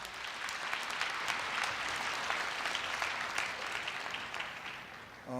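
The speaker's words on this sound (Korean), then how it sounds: "큰 박수로 맞이해 주시기 바랍니다." An audience at a Korea University event breaks into steady, sustained applause welcoming a speaker to the stage, a dense crowd clatter that fades slightly near the end.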